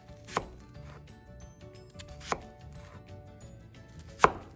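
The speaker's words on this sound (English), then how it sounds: "we're going to cut down the middle of the onion all the way around the stem" A chef's knife slices down through an onion around its stem on a cutting board, three sharp separate cuts spaced about two seconds apart, close and fairly quiet with faint room noise between.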